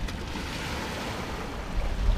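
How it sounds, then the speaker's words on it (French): Ocean swell rolling into an open boat anchorage near Tamarin beach, Mauritius, with a river behind it. It is a continuous, broad, rushing wash of water and wind that swells slightly toward the end, with no voices. "il y a la houle qui rentre d'un côté et le courant qui sort de l'autre"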